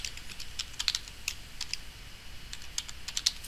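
Someone types on a computer keyboard, with quiet, close, irregular clicks tapping in short bursts and no talking.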